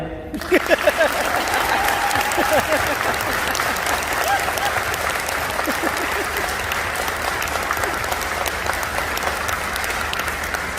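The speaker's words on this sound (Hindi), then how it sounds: "और जिन्होंने नहीं किया वो ताली बजाए।" An audience at a network marketing seminar bursts into sustained applause, many hands clapping densely and steadily for about ten seconds after a brief opening, with a voice briefly heard at the start.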